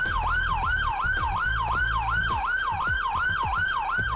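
Emergency vehicle siren on its Yelp tone, as used by fire brigade and ambulance services, a rapid, steady warble of quick rising and falling sweeps repeating about three times a second, loud and continuous.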